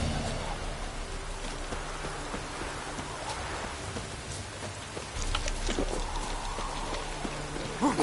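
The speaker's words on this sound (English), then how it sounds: "Looks like rain." Steady rain in The Witcher 3 patters over a dense wash of noise, with scattered drops and a louder swell near the end; no one speaks.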